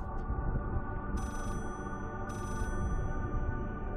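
A telephone rings in the horror video game Layers of Fear, two short high ringing bursts over a dense, loud droning game soundscape, with no voices.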